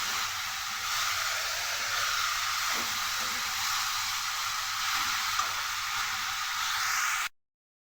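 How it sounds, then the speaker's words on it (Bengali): Potatoes and ridge gourd stir-fry in a pan with a steady, even sizzle and hiss that continues unbroken, then stops abruptly. "ঝিঙের সাথে আলুটা প্রায় 2 মিনিট ধরে আমি ভালো করে নেড়েচেড়ে ভেজে নিয়েছি"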